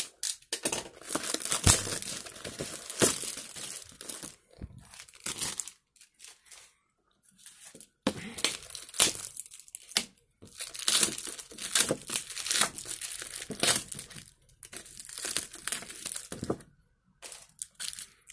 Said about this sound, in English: Let's rip it up.